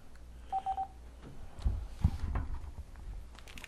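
A telephone dials a radio show guest with three quick, evenly spaced keypad tones, followed by faint line noise and low thumps.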